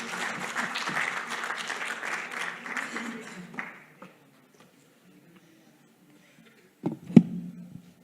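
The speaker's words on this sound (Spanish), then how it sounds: "un fuerte aplauso, por favor, para Alberto Bernués" An audience at an international seminar on circular economy applauds a speaker being welcomed, steady clapping from a crowd lasting about four seconds, then fading to quiet before a voice begins speaking.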